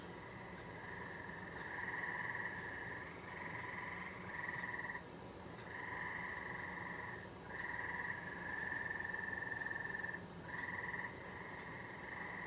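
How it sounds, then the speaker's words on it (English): Frogs croaking outside at night, a dense chorus of repeated trilling calls in bursts of a second or two with short gaps, moderately distant and steady over a quiet background. "Those freaking frogs, I tell you what, jeez. These things are crazy out there."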